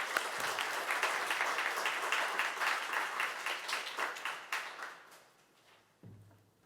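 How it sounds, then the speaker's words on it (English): An audience applauds to welcome a speaker at a livestreamed STEM event: dense, sustained clapping that gradually thins and fades out, ending with a faint thump. "a round of applause for Rwangi"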